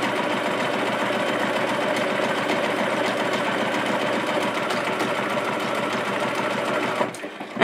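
A Bernina 1080 sewing machine stitches a buttonhole with a fast, steady mechanical whir and needle rhythm, running continuously close by before slowing near the end.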